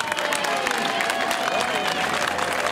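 A crowd applauds and cheers steadily at the 2012 Palio di Primaluna prize ceremony for the archery competition winner, with dense, continuous clapping close by and some voices mixed in.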